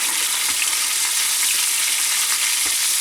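Fish coated in flour sizzles and spatters hard in a hot pan over a campfire by a taiga river, with a loud, dense, steady hiss and occasional pops.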